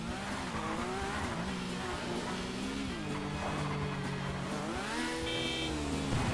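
A motorcycle engine in GTA V Online drones and revs continuously, its pitch sliding up and down, with tire-squeal-like tones throughout.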